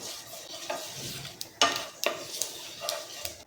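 Cumin and white sesame seeds crackle and sizzle in hot oil, with a few sharp spatters and the scrape of a stirring spoon against the pan.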